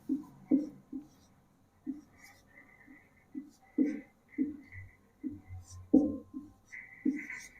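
Chalk or marker tapping and scratching on a board during a Hindi civics lesson, a quiet series of short, irregular strokes near the microphone with faint background sounds.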